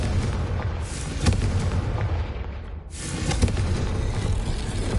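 A fiery blast spell goes off in a wizard video game, giving loud booming bursts over a dense rumbling bed, with a sharp hit near the start and another after a brief dip.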